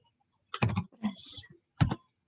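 Computer keyboard typing while configuring WordPress on an Ubuntu server: three close bursts of rapid key clicks separated by short pauses, fairly loud and with no talk.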